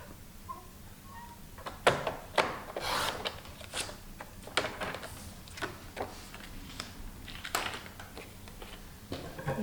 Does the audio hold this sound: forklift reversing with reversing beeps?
no